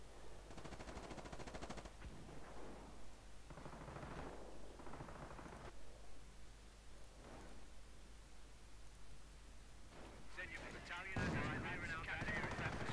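Mortar blasts and gunfire in a Battle of Crete mod battle on the Heraklion airfield map, coming as bursts of rapid shots and dull booms over constant noisy background, with a loud burst near the end.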